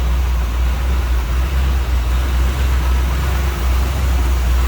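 The V8 engine of a 1950 Oldsmobile Futuramic Club Coupe street rod with a 4-barrel carburetor idles with a steady, loud, low rumble throughout, with a deep throbbing hum and no talking.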